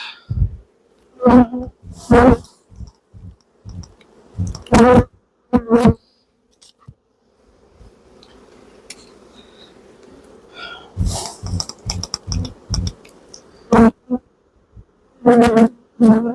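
Honey bees swarm and buzz around an opened hive, a steady drone running through the whole stretch, with loud close passes of individual bees darting by in bursts.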